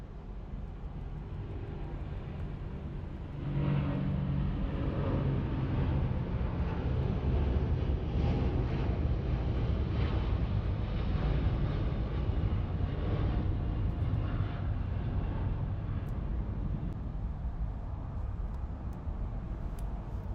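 ANA Flight 5, a jet airliner departing Los Angeles International Airport for Tokyo Narita, makes a steady distant engine roar that swells after a few seconds and holds as a broad, continuous rumble.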